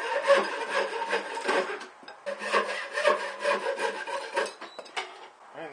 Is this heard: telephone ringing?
no